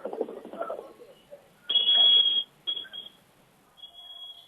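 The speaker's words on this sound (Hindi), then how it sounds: "नहीं अनीता जी, माफी चाहूंगी, मैं पीड़ित परिवार के साथ फोन लाइन पर जुड़ने की कोशिश कर रहे हैं।" Electronic tones sound over a brief stretch of muffled background noise: a sustained high beep, a shorter beep, then a fainter tone, like a phone line trying to connect.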